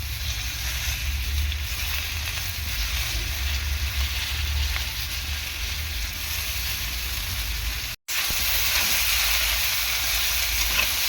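Leafy greens go into a pan of potatoes already browning in oil, with a loud, continuous sizzling hiss close by that drops out briefly before resuming, and no talking.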